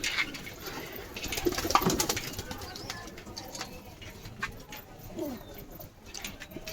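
Domestic pigeons coo on and off at close range, with a brief flutter of wings near the start and faint background noise, no voices.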